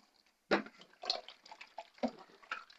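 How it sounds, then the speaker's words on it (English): A lime is cut in two and squeezed by hand, its juice dripping into a dish for cheesy chicken potatoes. A few soft, close, wet squelches and drips sound against near silence. "I'm going to cut it into two and pour and squeeze it in here"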